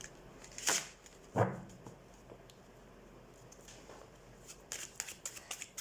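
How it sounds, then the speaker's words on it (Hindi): Tarot cards are shuffled close by and quietly, two brief riffling bursts early, then soft scattered flicks and taps toward the end. "सबसे पहले हम कार्ड शफल कर लेते हैं एक्वेरियस।"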